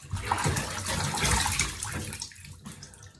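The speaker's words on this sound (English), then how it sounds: "And all I'm doing is splashing water on my face." Water running from a bathroom sink tap while it is splashed onto a face to rinse off makeup, close wet splashes and trickling over a steady flow.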